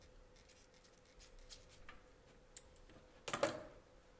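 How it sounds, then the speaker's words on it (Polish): Scissors snipping through yarn loops of a small handmade pompom, quiet scattered ticks and clicks followed by a couple of sharper, louder cuts near the end, close up with no voices. "Nawlekamy całość na nożyczki i rozcinamy pętelki jedna po drugiej."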